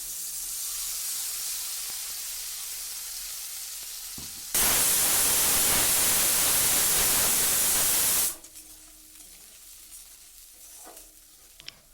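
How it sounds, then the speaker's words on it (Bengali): Spice paste dropped into hot oil in a pan after frying fish, erupting into a loud, dense sizzle that roars for about four seconds before settling to a quieter crackle with light stirring. "এবার ওই তেলের মধ্যে আমি যে মশলাটা পেস্ট করে রেখেছিলাম মশলাটা দিয়ে দিলাম"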